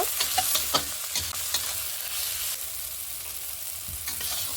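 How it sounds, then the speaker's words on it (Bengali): Ground cumin, coriander and turmeric fry in oil for arhar dal, giving a dense continuous sizzle with repeated spatula stirs and scrapes, close and fairly loud, no voices. "এখন মশলাটাকে ভালো করে কষিয়ে নেব।"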